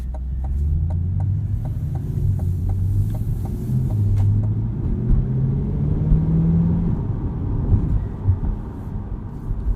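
A 2020 Chevrolet Corvette Stingray Coupe's active exhaust rumbles deep and throaty as it accelerates, the engine note climbing in pitch through a gear, heard close from the cabin.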